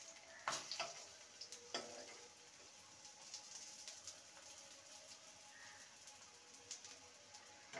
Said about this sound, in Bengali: লো টু মিডিয়ামে রেখে এগুলোকে ভেজে নেব